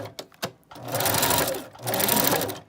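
Sewing machine stitching a wig frontal, loud and close: a few brief needle clicks open, then two bursts of rapid whirring stitches separated by a short pause.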